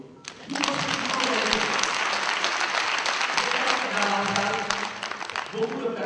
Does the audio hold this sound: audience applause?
yes